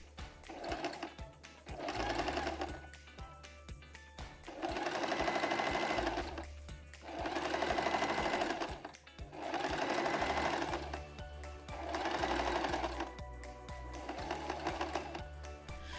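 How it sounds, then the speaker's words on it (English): Sewing machine zigzag stitching the sides of a pillowcase in several bursts of rapid whirring, a few seconds each, separated by short pauses, close and clear. "Then sew, then use a zigzag stitch on all 4 sides."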